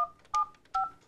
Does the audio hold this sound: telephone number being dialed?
yes